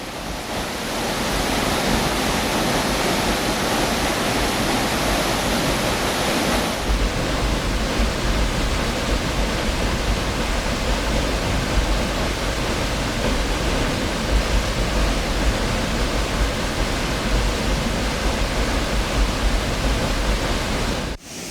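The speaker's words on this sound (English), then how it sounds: "Eglinton Valley had an awesome little waterfall track. The walk ran next to a river which made for some lovely recordings." A waterfall and river in Eglinton Valley, New Zealand, roar as a loud, dense, unbroken wash of falling and rushing water, steady throughout with no voices.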